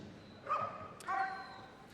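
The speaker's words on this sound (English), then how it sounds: "The helper will agitate the dogs into a bark" West Midlands Police dogs bark during a police dog unit display at Crufts 2013, giving two distinct, fairly loud barks about half a second apart over a faint arena background.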